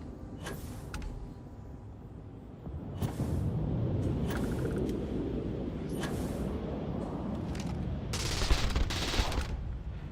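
Particle beam weapon from the game DarkStar, fired from a Kodama at an abandoned weapon station: a run of sharp, close energy shots over a steady low rumble, with a dense bright burst of fire near the end.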